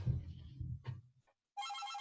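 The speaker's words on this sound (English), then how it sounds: "that phone is loud" A telephone rings loudly in a classroom, starting abruptly after a brief murmur and a short pause. It sounds as a bright, sustained electronic trill near the end.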